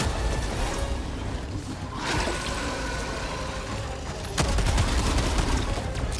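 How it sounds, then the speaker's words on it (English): Autocannon fire in the video game Helldivers 2, a dense continuous burst of heavy automatic gunfire that swells louder after a brief lull, alone with no talk. "Oh, I put an auto cannon down."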